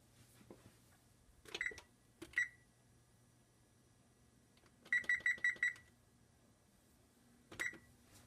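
A kitchen timer being set for 15 minutes, sounding as a few separate electronic beeps followed by a quick run of five rapid beeps and one final beep, against a quiet hum, with no talk.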